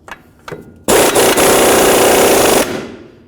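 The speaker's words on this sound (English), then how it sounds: "Bottom out the lower ball joint nut." Power tool rattling loud and close as it runs down the lower ball joint nut on a Dodge RAM 1500 front lower control arm, a couple of short taps followed by a sustained burst of almost two seconds.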